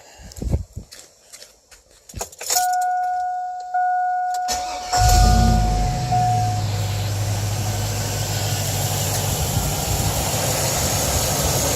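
A truck engine cranks over and catches, then settles into a steady, close idle that runs alone after a few footsteps and clicks.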